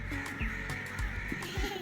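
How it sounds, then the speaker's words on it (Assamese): Several crows caw in short repeated calls at moderate distance, a few harsh caws in quick succession over faint background noise. "ইমান কাউৰী উৰিছে"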